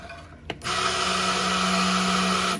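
An electric mixer starts with a click and whirs loudly and steadily through a batch of hot process lye soap batter. A strong, constant motor drone runs close up with no talking.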